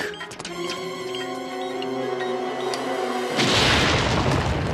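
A large blast of dynamite goes off in a cartoon set around a pharaoh's underground world, a loud broadband burst rushing in after a sustained tonal music bed and continuing as a dense rumbling roar.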